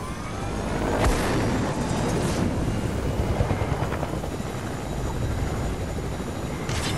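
A helicopter in the multiplayer shooter Squad drones loudly and continuously with a rotor thump close by, with a few heavy booms cutting through.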